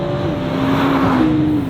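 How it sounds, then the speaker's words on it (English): A 2022 Nissan GT-R T-Spec accelerates under throttle with a loud, steady engine drone whose pitch climbs gradually, heard close from inside without talk. "Just roll onto the throttle here."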